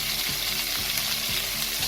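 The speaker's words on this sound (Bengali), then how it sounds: "এটাকে হালকা ফ্রাই করে নেব।" Chopped cauliflower, carrots and beans frying in a pan with garlic for quinoa pulao, a steady close sizzle with a few soft stirring scrapes.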